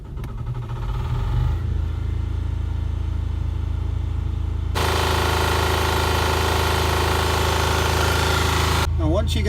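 An Onan 3200 generator on a Wayfarer fires up and runs with a steady, close engine drone that grows noticeably louder and rougher partway through, holding a constant throb to the end.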